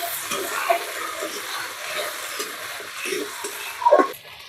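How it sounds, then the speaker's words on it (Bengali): Ginger paste is stirred in a hot cooking pan, with a soft, rhythmic scraping and light sizzle that swells into a louder clatter of the spoon near the end. "এবার এর মধ্যে দিয়ে দিচ্ছি আদা বাটা। আদাটা ভালো করে নাড়তে থাকবো"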